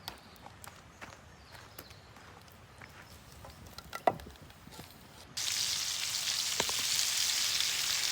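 Bacon in a pan over a campfire at a mountain campground bursts into a loud, steady sizzle partway through, after a stretch of quiet clicks, knocks and outdoor rustling.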